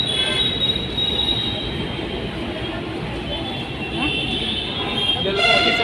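A metro train pulls into a station platform, its wheels squealing in high sustained tones over a steady rumble that carries throughout, with faint talk in the background.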